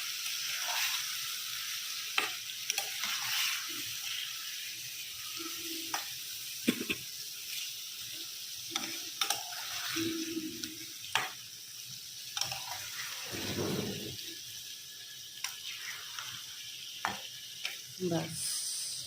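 Fish sizzling steadily in a hot pan, with scattered clinks and scrapes of gentle stirring over a continuous frying hiss.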